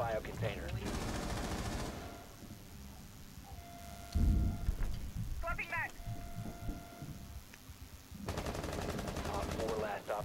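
Gunfire in Rainbow Six Siege on the Favela map, with bursts of automatic shots at the start and end and a heavy impact near the middle, under players talking over voice chat.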